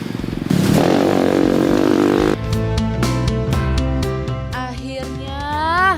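A motocross motorcycle rides along a nature trail with a loud, close engine that revs steadily, clatters over the rough ground and climbs in pitch near the end, with no voices.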